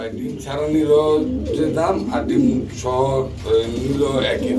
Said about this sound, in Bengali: কি কবুতর দেখতে পাচ্ছি আমরা এটা হচ্ছে চেরি কবুতর